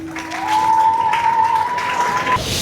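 An audience of students and guests claps together at a school literary and patriotic contest in a hall, a dense burst of applause lasting a couple of seconds with a steady high tone ringing under it.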